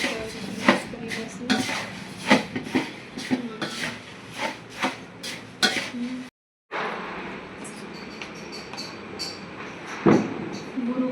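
Sifted puffed rice is mixed by hand in a metal vessel for a Diwali snack, giving rustling, clinking scrapes in quick bursts, close by, with a brief silent gap midway before the mixing resumes.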